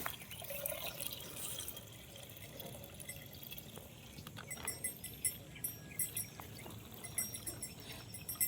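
Water trickles and splashes faintly into a container, with a few soft drips near the end.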